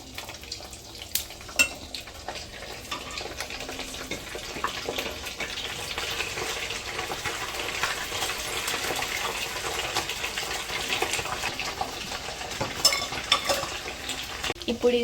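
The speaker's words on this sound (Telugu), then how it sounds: "ఆయిల్ వేడైంది. ఇప్పుడు మనం చికెన్ పీసెస్ వేసుకుందాం." Chicken pieces for pickle fry in hot oil, a quiet, continuous crackling sizzle with occasional sharper pops and faint pan clatter throughout.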